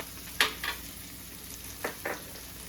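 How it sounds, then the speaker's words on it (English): Two eggs seasoned with salt and black pepper are scrambled in a pan for a keto breakfast. Four short, distinct scraping strokes stand out over a quiet sizzle, close up and with no talking. "Scramble them up."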